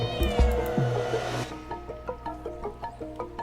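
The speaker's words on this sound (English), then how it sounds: "walking around as a cat in a creepy town might be fun" A cat meows loudly and repeatedly in a video game trailer set in a creepy town, the cries drawn out and wavering, then followed by a run of short, evenly spaced tonal blips.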